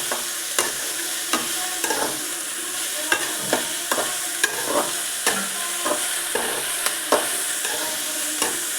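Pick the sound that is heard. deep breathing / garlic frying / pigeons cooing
garlic frying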